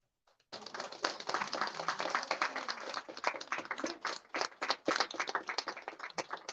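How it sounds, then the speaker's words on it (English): An audience at a National Public Relations Day award ceremony breaks into applause for an awardee, starting abruptly after a short silence and continuing as dense, lively hand-clapping from a nearby crowd. "A huge round of applause for Sumit Agarwal."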